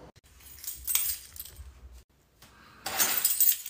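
Keys jangle as they are handed over, a few bright clinking bursts with a louder metallic rattle near the end, close by and with no talk.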